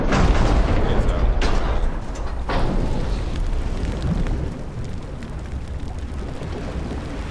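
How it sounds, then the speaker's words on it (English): Torpedo strikes on a ship in a naval game, heavy booming impacts at the start followed by a sustained rumbling roar that slowly settles, loud throughout. "Torpedo hit."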